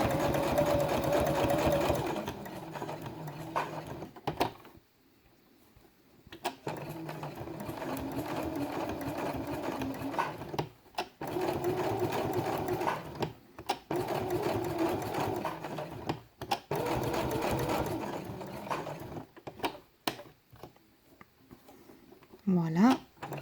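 Sewing machine running a 2.5 mm straight stitch around faux leather on felt, in bursts of steady rapid needle chatter separated by short pauses, close and clear.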